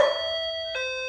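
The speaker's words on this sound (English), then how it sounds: "I had a doorbell ring." A doorbell rings with a bright, sustained electronic tone that shifts to a second note partway through, close and clear, with no voices.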